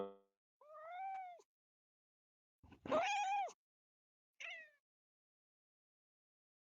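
A human voice imitates an angry cat called Dexter with three separate whiny, yowling meow-like cries. They are fairly close and come between stretches of silence.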